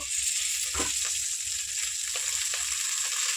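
Chicken roti chutney frying in a pan gives a loud, steady sizzle, with faint stirring scrapes and clicks now and then underneath and no voices.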